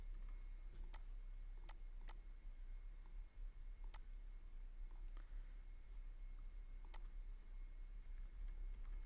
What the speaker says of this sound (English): I'm using the arrow keys,